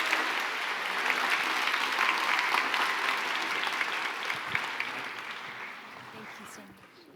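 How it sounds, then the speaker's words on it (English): Audience at an awards ceremony applauds steadily and fairly loudly for several seconds before the clapping begins to taper off near the end. "a round of applause for everyone who is on stage"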